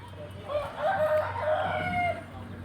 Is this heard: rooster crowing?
yes